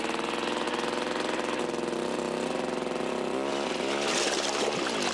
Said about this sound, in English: We did ice carving with a chainsaw.